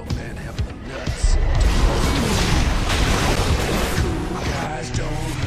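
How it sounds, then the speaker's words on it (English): A loud explosion bursting in with a heavy low boom, followed by a sustained roaring, crackling rumble that keeps going for several seconds. "Guys, don't look at explosions."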